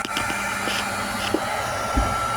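A hair dryer on its low setting blows steadily at close range, melting ice in an ice maker, with a continuous airy whir and faint thin tones and small knocks over the top.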